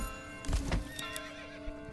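Horse neighs and hooves clop in the medieval city-building game Manor Lords, a short whinny over a few soft hoofbeats against a steady low game ambience, fairly quiet.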